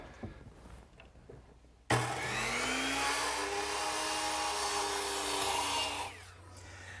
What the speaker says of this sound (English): I'm going to have to miter the corner so that it'll intersect the miter of the other tenon. And I'll do that over here on my miter box.